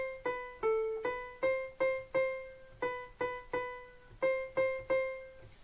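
A keyboard plays the opening of a practice piece as a melody of evenly spaced single notes with bright harmonics, each decaying, at a moderate steady pace and close by, with no voices.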